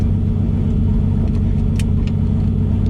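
A Ford Foxbody car swapped with a Toyota 1JZ engine accelerates hard, a loud, steady low rumble filling the cabin with no talk.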